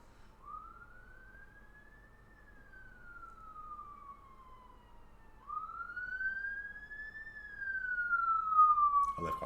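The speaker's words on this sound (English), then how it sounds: "there's always ambulances going around here" An ambulance siren wails in two long rising-and-falling sweeps, moderately distant, near a hospital, over faint street background.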